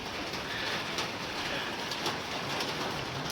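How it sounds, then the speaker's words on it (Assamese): Steady rain falls in Darjeeling, a dense continuous hiss of drops close and all around with no voices. "এতিয়া চাওক বৰষুণ ইয়াত বৰষুণ আহিছে"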